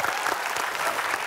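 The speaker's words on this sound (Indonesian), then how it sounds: "Tuh, tepuk tangan dulu dong." A studio audience on the Family 100 Indonesia game show claps in a short, dense burst of steady applause, loud and close.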